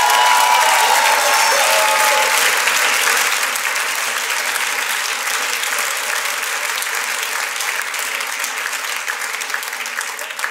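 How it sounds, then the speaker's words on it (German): Loud, sustained applause fills a club's general assembly hall after a new board chairman is elected, dense clapping from a crowd that slowly tapers slightly over ten seconds. "Applaus!"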